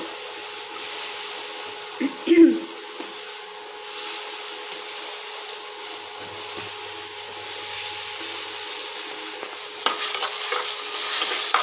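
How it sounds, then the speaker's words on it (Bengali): Chopped tomato fries in hot oil in a wok with a steady, close sizzle and one sharp clank of a utensil early on, with no speech. "প্রথমে টমেটো কুচি দেব,"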